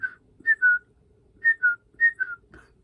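Someone whistles a short, shrill, rising-and-falling tune imitating a crazy whistle, with several quick paired chirps separated by short pauses, close and clear over a quiet background.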